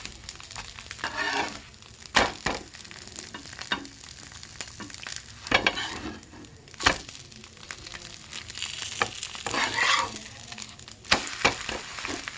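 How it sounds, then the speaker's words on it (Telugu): Egg dosa fries in a pan, with a soft sizzle under intermittent scraping and clattering strokes scattered across the clip. "కొంచెం 2 నిమిషాల సమయం దాకా లోలో ఉంచేసి బాగా వేగనియాలి."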